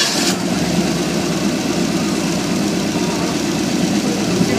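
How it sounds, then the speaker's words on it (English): A car engine in an oil demonstration, running on residual oil and additive, fires up with a brief start and settles into a loud, steady, rumbling idle close by. "you can hit the magic button, get Bubba started"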